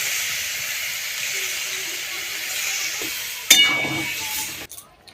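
Potato and pointed gourd sizzle steadily in a pan; water is poured in and the hiss surges loudly with a burst of steam, then quickly fades.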